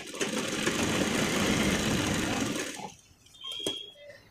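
A sewing machine stitches both sides of a folded full sleeve, running in a dense, fast, steady whirr for nearly three seconds, then stopping. A short softer burst of motor noise follows.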